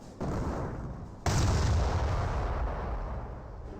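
A 105 artillery piece fires in the Company of Heroes video game: a faint earlier thump, then one loud, sharp cannon boom that rolls into a long fading rumble.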